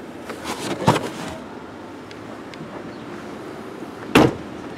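Boot of a Ford Ka opening and its carpet lifted, heard as a close thud and rustle near the start, quiet handling between, then a second sharp knock near the end, no talk.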